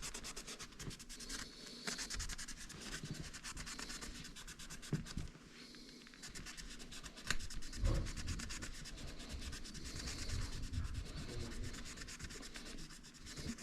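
Sanding pad scrubbing a part from a furnace, a steady abrasive rubbing and scratching that runs continuously and close by, with a few louder scrapes and brief bumps.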